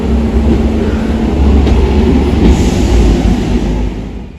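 A British Rail Class 139 railcar rumbling close by, a loud steady low roar of engine and wheels on track that eases slightly toward the end.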